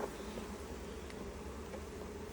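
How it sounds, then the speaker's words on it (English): Dense, steady buzzing of many honeybees crowding the open honey frames of a Langstroth beehive during an inspection, heard up close without any voices. "A lot of bees in there."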